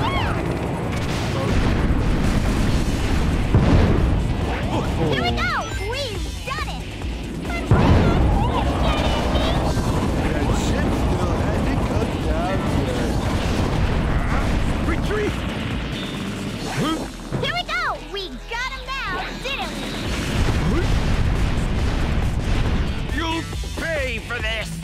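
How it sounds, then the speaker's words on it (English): Cannons fire in the Sonic Heroes video game, a loud, dense barrage of booms, crashes and pops over busy game music and effects, with voices over the noise throughout. "Ready all cannons! Open fire!"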